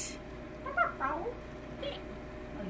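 A domestic cat meows near the mic, a couple of short mewing calls against quiet room tone, with a faint higher squeak later on.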